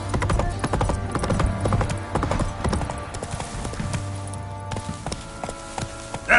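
Roach, Geralt's horse in The Witcher 3, gallops with a rapid, rhythmic clip-clop of hooves, close and steady, under game sounds and a short spoken line.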